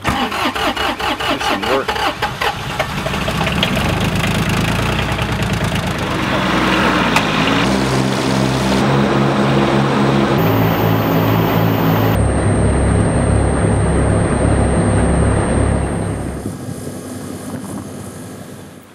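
A snowblower engine is started in deep Hokkaido backcountry snow, coughing and catching before settling into a loud, close, sustained running roar whose pitch shifts as it revs, then cutting out near the end; a voice speaks briefly.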